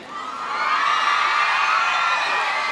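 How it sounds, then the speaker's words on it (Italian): A crowd shouts and cheers in a loud, sustained roar that swells within the first half second and holds steady, with no clear individual speech. "senti invece che urlo, senti!"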